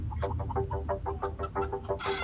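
Chickens cluck in a rapid, steady series of loud, close calls at a market, with low background rumble beneath.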